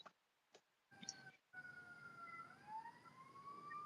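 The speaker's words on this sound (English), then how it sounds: "now I'm hearing sirens in the background here in the town again" Emergency vehicle sirens sound from the town outside, faint and distant, wailing in a slowly rising and falling tone after a few soft knocks and bumps nearby.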